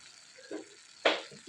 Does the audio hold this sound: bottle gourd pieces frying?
yes